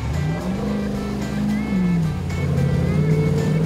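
A custom off-road truck revs hard as it drops into mud on a tuff truck course, with a loud, continuous engine roar whose pitch rises and falls.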